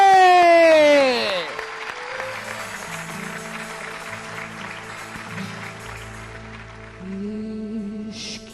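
A studio audience on a Pakistani TV talk show, Uddham Night, applauds to welcome a guest, the clapping running steadily under musical tones after a loud opening sweep.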